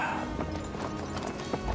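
Horse hooves clip-clopping at a steady walking rhythm, a continuous run of close, distinct hoof strikes with faint background noise.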